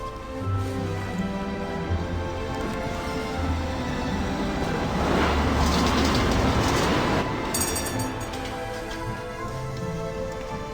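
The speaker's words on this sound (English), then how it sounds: "But here's our tram." A tram rumbles steadily closer on its rails, with rolling clatter and squealing building to a loud pass, then easing off, in the game Syberia: The World Before.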